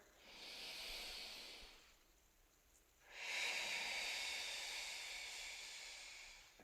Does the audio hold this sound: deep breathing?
yes